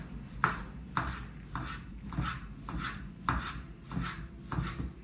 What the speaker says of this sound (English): slice this up.